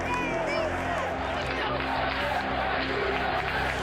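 Large crowd at a ballpark cheering and chanting USA in celebration, a dense roar of many voices with rhythmic shouting, heard close and loud throughout.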